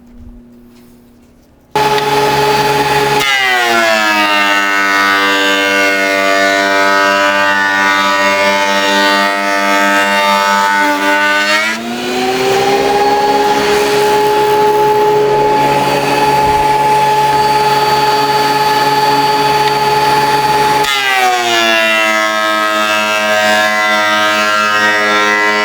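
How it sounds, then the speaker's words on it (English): A wood planer smooths a glued-up wooden cutting board: a loud, steady mechanical whine that spins up, drops in pitch and grows rougher under load midway, then climbs back to a high idling hum, with no talking. "we're going to take this to the planer and get rid of the glue and get some smooth surfaces"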